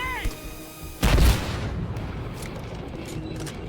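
A grenade explodes in the video game Earthfall: one loud, heavy boom bursts out about a second in, then fades into a lingering rumble with a faint tonal ring before it.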